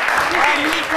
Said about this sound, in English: Residents, young and old, reciprocate the only way they know how, by clapping their hands enthusiastically.